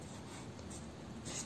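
Pen or pencil writing numbers by hand on paper, a soft continuous scratching rub, close and faint, lasting under two seconds.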